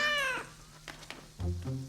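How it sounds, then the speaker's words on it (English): A cartoon kitten gives a high, falling meow up close, followed by softer rustling and then a lower, drawn-out mewling cry. "Caillou loved his new kitten very much."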